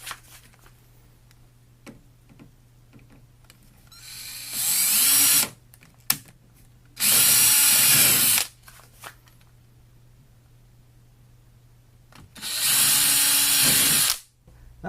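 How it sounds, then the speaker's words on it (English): A power drill with a 9/64 inch bit bores holes in the plastic hull of a Jackson Kayak Cuda 14 for rudder steering cable tubing, running in three loud bursts of a few seconds each, with quiet handling noises between them. "we're going to go ahead and drill the 2 holes for the steering cable tubing"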